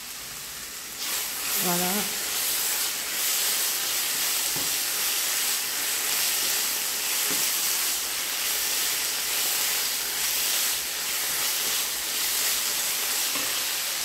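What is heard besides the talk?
vegetables and mushrooms sautéing in a pan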